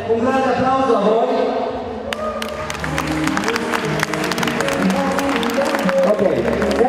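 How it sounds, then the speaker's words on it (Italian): An audience applauds dance schools and models at a dance show, clapping that swells from about two seconds in and carries on steadily, mixed with voices and music. "un grande applauso a voi"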